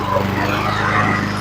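A Honda lawn mower engine, in need of a new governor spring, runs steadily up close with a slightly wavering, fluctuating idle hum throughout.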